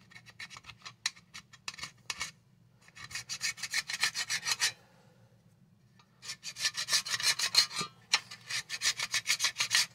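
Old foam surround being scraped off the basket edge of a Boston Acoustics A-120 10-inch woofer, close raspy rubbing strokes in quick rhythmic bursts with pauses between, no talking.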